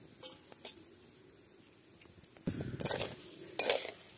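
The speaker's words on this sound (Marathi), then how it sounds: "तर आपल्याला हा रवा आता भाजून घ्यायचा आहे तेलामध्ये।" Semolina (rava) stirring in hot oil in a pan over a wood-fired chulha, heard as quiet scraping and shuffling that turns louder and busier in the second half, with a few sharper scrapes of the spoon against the pan.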